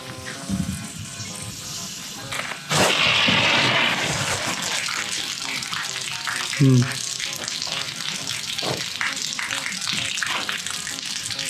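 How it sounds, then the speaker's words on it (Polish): Water is let into a homemade solar collector during a pressure test, hissing and splashing as it flows out, with a brief sharper gush midway and people talking quietly in the background. "Ja puszczam wodę, a tutaj będzie wylatywać ta woda."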